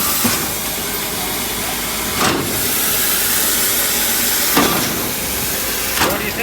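Large steam locomotive venting a steady loud hiss of steam up close, with sharper bursts of steam release at intervals and a low engine rumble underneath, no talking.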